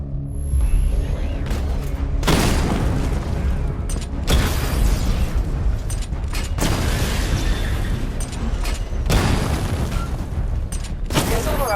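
Repeated loud booms and bursts of explosions as targets are destroyed in the Batman: Arkham Knight video game, mixed with mechanical clanks and a constant dense game soundscape.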